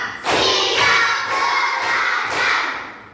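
Children in a group deliver a counted clapping chant: several loud, dense clap bursts in quick, even rhythm, close by, with a crowd of young voices blending underneath.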